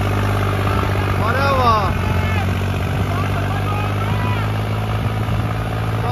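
A hefty tractor engine runs steadily close by, its low droning hum constant throughout, with a voice speaking briefly over it.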